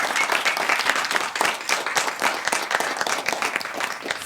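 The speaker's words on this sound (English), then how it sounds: "Let's give a round of applause one more time" A business event audience gives a lively round of applause, brisk overlapping claps close by, continuous for a few seconds with no talking.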